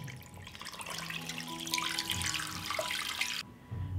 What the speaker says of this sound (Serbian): Sipat ću vodu da prekrijem meso.